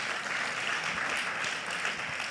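A seminar audience gives a brief burst of steady applause for a speaker at a leadership and small-business development event, dense and fairly close, with no voices over it.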